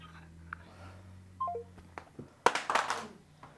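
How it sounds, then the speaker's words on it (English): A phone call being hung up, with a short descending series of electronic tones and then a louder burst of clatter and handling noise, with faint voices in the background. "The way she hung up and let go of the phone"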